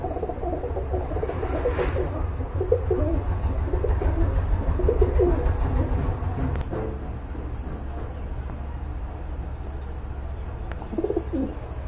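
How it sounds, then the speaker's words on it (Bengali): Pigeons offered for sale, including a pair of Gribas pigeons, coo softly and repeatedly against a steady low rumble and ambient noise. No voices are heard. "আর এখন দেখতে পাচ্ছেন এক জোড়া গ্রিবাস কবুতর।"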